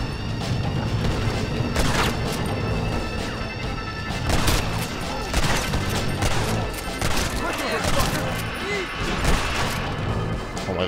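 Gunfire and crashing impacts in Red Dead Redemption: Undead Nightmare, a zombie-filled western video game, with repeated loud shots and smashes in a busy barrage, over game music and voices.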